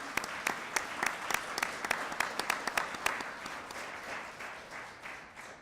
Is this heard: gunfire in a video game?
no